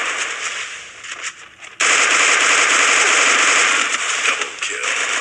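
Gunfire in a competitive video game match: softer scattered shots give way to a loud, dense, continuous stream of rapid automatic fire that holds steady to the end.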